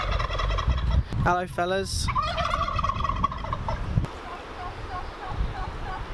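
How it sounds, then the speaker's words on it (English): Farm turkeys gobble in a loud, close, rapid warbling burst, followed by a second call and softer bird noises, while a voice briefly greets them. "Notice the turkeys are still ruling the roost over here."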